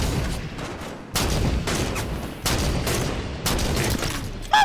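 Sniper rifle fire in the Halo video game, heavy shots cracking in bursts roughly every second or so over a busy, loud battle backdrop, ending with a short electronic tone.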